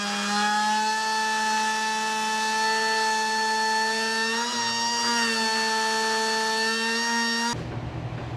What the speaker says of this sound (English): now I'm gonna clean it up a little bit with the carbide bit on my die grinder